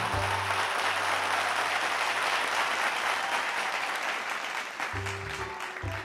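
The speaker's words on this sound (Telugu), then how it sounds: "తనకి అందరూ గట్టిగా చప్పట్లు కొట్టండి." Loud, sustained applause from an audience fills the room, steady throughout and tapering slightly near the end, with a brief low murmur of voices underneath.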